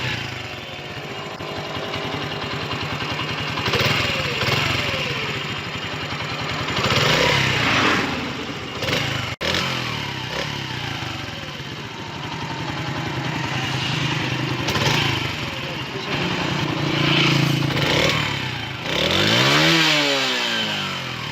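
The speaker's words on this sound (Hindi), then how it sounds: "आपको जो इंजन साउंड है वो किस तरह से इसकी आवाज़ होगी वो आपको फर्स्ट टाइम चेक करवाएंगे" A 2022 Zxmco motorcycle engine runs close by, a steady, buzzy running note with repeated revs that rise and fall, heard alone throughout.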